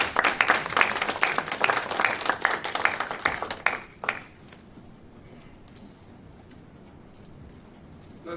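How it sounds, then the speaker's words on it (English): An audience at a clinical trial webcast event claps in a dense burst of applause that thins to scattered claps and fades into quiet room tone midway. "Let's give Dr. Carter another round of applause for a great job."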